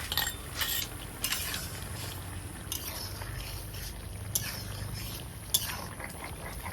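Fried fish going into a simmering vegetable curry of eggplant and bitter gourd in a pan, with light clinks and scraping from a utensil over a continuous bubbling background.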